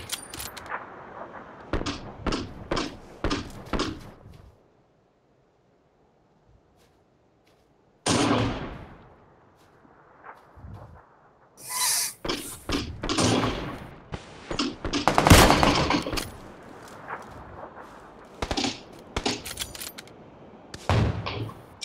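Rapid bursts of gunfire in a shooting video game, several quick volleys up front, a gap of near silence, then dense clustered shots and impacts through the latter half, loud and close.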